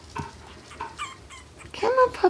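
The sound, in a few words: puppy whimpering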